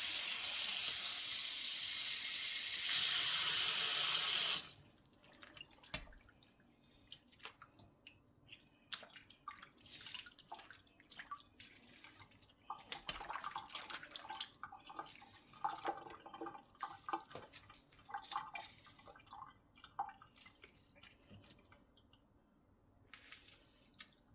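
Goat meat is rinsed under a tap in a sink: a loud, steady stream of running water for the first few seconds, then close splashing, drips and wet handling.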